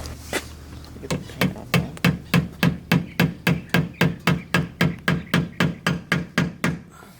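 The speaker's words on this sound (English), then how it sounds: "Well, I'm about to hammer it in." Repeated hammer blows striking metal as a limited-slip differential part is driven into a BMW E36 axle, about twenty sharp evenly spaced hits close by, speeding into a steady rhythm before stopping.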